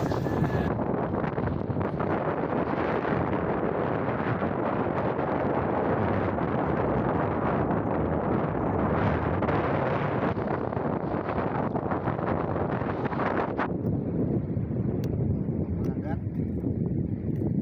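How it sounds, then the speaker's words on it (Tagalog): Heavy wind buffeting the microphone, a loud continuous roar that drops off slightly near the end, with faint voices underneath. "kahit in-adjust na namin yung volume, malakas pa rin yung hangin"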